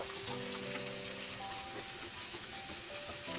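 Six whole onions fry in a spoon of oil for a mushroom biryani, a faint, steady sizzle with no voices over it.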